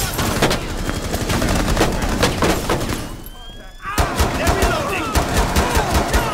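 Rapid gunfire bursts from a Rainbow Six Siege terrorist hunt match in a house, loud repeated shots with a brief lull before the firing resumes, with voices talking over the action.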